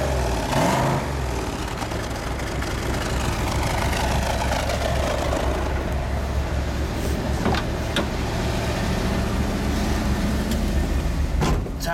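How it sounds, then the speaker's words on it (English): A 1971 Plymouth Hemi Cuda convertible idles on a cold day in Chicago, its engine holding a steady, nearby rumble with a few brief mechanical clicks and whirs over it. "driving the Hemi Cuda convertible around"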